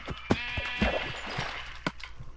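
Sheep in the Minecraft video game bleat in several short wavering cries, a few overlapping calls with sharp clicks between them, clear and up front with no talking.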